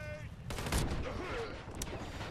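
Gunfire in the Warface shooter game, a loud shot followed by a rumbling burst of weapon fire and battle noise over a busy game background.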